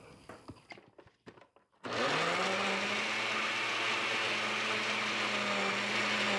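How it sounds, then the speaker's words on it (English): A blender purees strawberries, starting after a few faint clicks and clatters with a sudden loud, steady whirring drone that holds evenly for several seconds. "I'll puree all the berries first"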